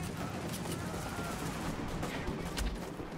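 Gunfire in Tom Clancy's The Division video game, a dense, continuous stream of rapid shots mixed with a few louder bursts, heard at moderate level over a noisy battle background.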